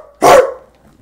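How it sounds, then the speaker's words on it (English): A single sharp dog bark, loud and close, ending quickly with a short fading tail. "She will bark for me."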